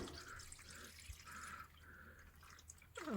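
Motor oil spraying and dripping from the drain of a 2024 Toyota Sienna hybrid into a drain pan, a faint, steady watery patter with splashy bursts, close by and alone.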